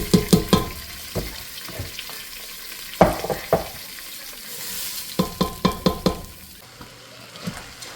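Rice frying in butter in a pan, a soft sizzle punctuated by bursts of sharp scraping clacks as a utensil stirs it, close and fairly quiet.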